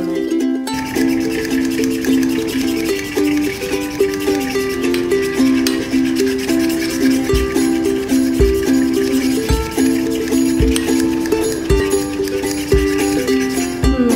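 A mixer beats sponge cake batter flavoured with vanilla essence. The whirring hum is steady and close, with occasional knocks against the bowl.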